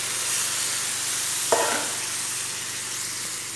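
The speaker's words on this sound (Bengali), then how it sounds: "এই জন্য এখন পানি দিব, যাতে টমেটো সিদ্ধ হয়ে যায়" Steady frying sizzle of a spice and tomato mix, then a brief splash and hiss as water hits the hot pan, the sizzling continuing afterward.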